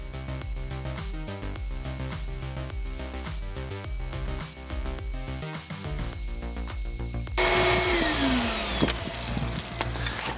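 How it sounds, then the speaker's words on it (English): A vacuum cleaner works inside a VW car, its motor whining steadily before a loud rush of suction air swells in near the end, with no voices. "That's right, more vacuuming."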